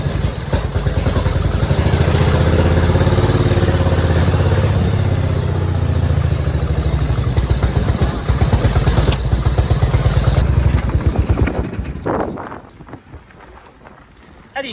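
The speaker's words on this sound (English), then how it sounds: "Let's take this bike for a ride." A custom Harley lowrider motorcycle engine rumbles loud and close with a steady, throbbing idle that rises and falls for several seconds before cutting out and leaving a quieter tail.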